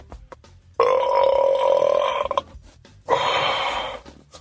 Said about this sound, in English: let's try to get some beast belches out here